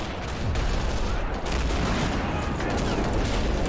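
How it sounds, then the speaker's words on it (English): Artillery fire in an army men video game: a dense, continuous barrage of booms and gunfire bursts rolling together, loud and sustained across the whole stretch. "The artillery starting to kick in on the Red positions"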